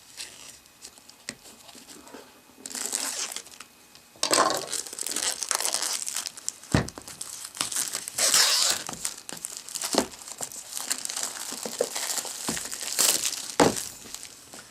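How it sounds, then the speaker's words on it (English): Plastic shrink wrap cut with a cutter and peeled off a black 16GB WiFi Apple iPad 2 box: close, irregular crinkling and tearing bursts with sharp crackles and a few knocks, growing louder midway. "get my trusty cutter out, and get the plastic off of this"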